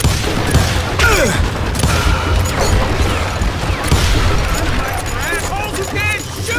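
Gunfire from the Western shooter Call of Juarez Gunslinger, a dense run of shots and crashing impacts throughout, loud and sustained with voices shouting over the clamor.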